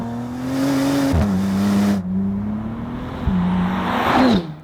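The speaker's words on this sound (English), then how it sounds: "We had a chance to test the Continental GT with the W12, and this is what it sounded like." A Bentley Continental GT's 6-litre W12 engine revs loudly and steadily, dipping briefly twice as it shifts, then climbing again to a final rising roar.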